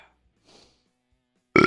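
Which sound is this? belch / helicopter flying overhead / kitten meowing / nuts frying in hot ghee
belch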